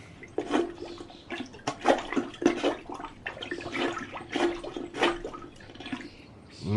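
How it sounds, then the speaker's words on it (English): Plunger working a clogged toilet: repeated wet sloshing and gurgling water pulses, each surge rising and falling in a loose rhythm, close and moderately loud. "Let me just get my plunger."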